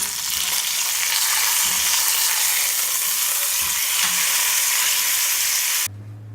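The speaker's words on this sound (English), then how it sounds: "So we're going to sear each side until it gets all caramelized." Pork loin sears in a hot pan with a loud, steady sizzle and crackle of frying fat, continuous and close, ending abruptly near the finish.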